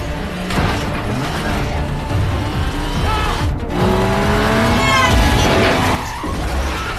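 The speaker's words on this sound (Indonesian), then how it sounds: "Terjadilah kejar-kejaran hingga membuat mobil mereka bertiga bertabrakan." Cars race in a film chase scene ending in a collision, with loud engine roar, squealing tires and skidding throughout, a sharp impact-like break midway, and no talk.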